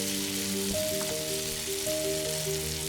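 Onions frying in ghee for chicken biryani, a soft steady sizzle and crackle at low level, with faint tonal hum running underneath throughout.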